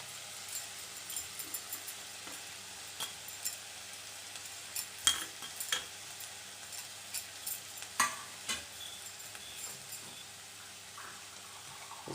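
Mango pickle mixture with turmeric, crushed ginger and coconut stirred in a pan, giving soft intermittent scrapes and taps over a faint background hiss, fairly quiet and without speech.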